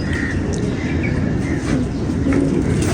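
Pigeons at a loft cooing low and soft amid a dense, continuous murmur of many birds, with faint chirps above.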